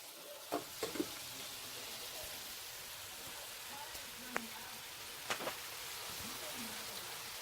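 Curry chicken stir fry sizzling in a pan, a faint steady hiss of frying with occasional clinks and taps of utensils, quiet and continuous in the background.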